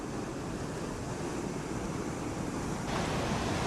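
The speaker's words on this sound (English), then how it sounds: "This is the main section of the Rancheria River." The Rancheria River in Alaska flows over rocks, a steady broadband rush of water heard close with wind noise on the microphone and no talking.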